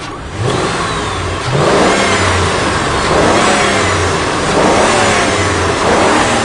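A car engine that still throws P0171 and P0174 lean codes after every part was replaced runs loud and close, surging through rising revs with rough, uneven pulses as the idle adjusts.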